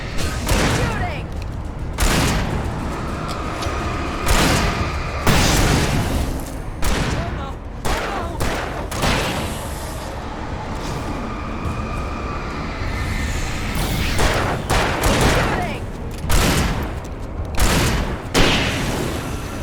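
Repeated bursts of gunfire in Alan Wake Remastered during a desperate hold-out while waiting for an elevator, loud, sharp shots in clusters over a continuous rumbling din, with raised voices at times.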